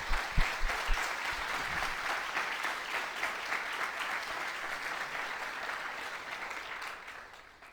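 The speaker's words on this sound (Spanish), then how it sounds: "lo primero que quiero darle es un aplauso cariñoso a Siley Mora" Audience at a university talk at Universidad de Concepción, Chile, gives warm applause: a few sharp claps up front, then a sustained, even patter of many hands that gradually fades out.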